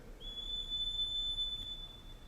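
A small metal organ pipe with a tuning sleeve, inside a church, sounds one steady, pure high whistle-like tone for about two seconds. It is fairly faint against a quiet room hiss.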